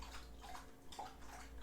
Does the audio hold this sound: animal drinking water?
yes